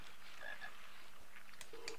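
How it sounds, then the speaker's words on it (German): Frog croaking inside a Harry Potter video game, a few short tonal croaks over a soft, steady ambient game background, with a brief higher call near the end. "Ein Frosch, das ist sehr gut"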